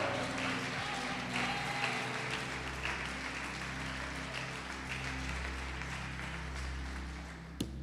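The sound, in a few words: church congregation applauding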